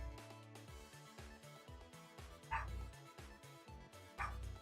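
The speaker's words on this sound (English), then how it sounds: "Bark, bark." A dog barks twice in short bright bursts, spaced a couple of seconds apart, over steady tonal background music.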